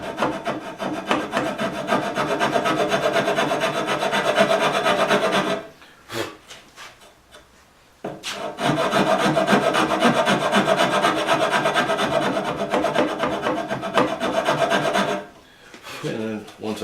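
A bastard file rasps back and forth across the cut-out shape of a wooden high chest in long, dense scraping strokes, pausing briefly twice before resuming.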